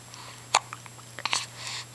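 A baby's hiccup rings out as a sharp, isolated burst, followed by a smaller hiccup-like catch over quiet room tone, with no talking.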